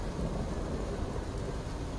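Rain falls in the video game Fallout 4, a steady low rumbling wash with a thundery, storm-like weight. It stays constant and fairly faint across the short stretch, with no voices.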